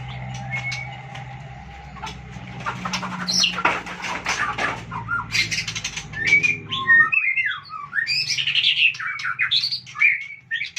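Chickens and birds whistle and squawk close by, with a short burst of wing flapping; a low engine-like hum fills the first half.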